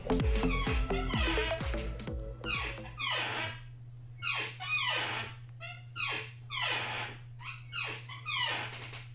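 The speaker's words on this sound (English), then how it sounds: "My chair's so squeaky, I do apologize for that." A chair squeaks in a run of quick creaks, then in separate high squeals with short pauses between them, close and fairly loud over a faint steady hum.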